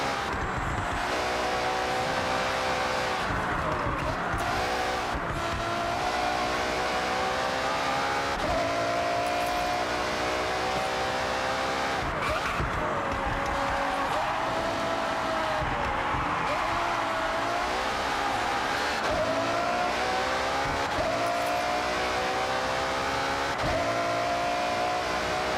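Racing car engines in the Forza Horizon 6 video game, repeated rising revs and gear shifts from a close car under hard acceleration, with brief tire noise, loud and continuous.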